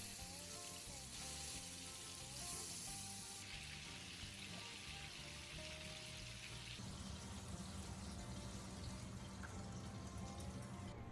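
Meat pieces frying piece by piece in a pan, a steady dense sizzle and crackle that runs without pause, moderately quiet and close, with no voices over it.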